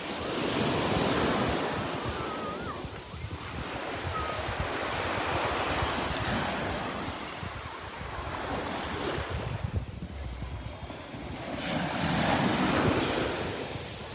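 Steady ocean surf rolling onto a beach in North Naples, Florida, with waves swelling and breaking in loud washes over gusty wind rumble against the microphone.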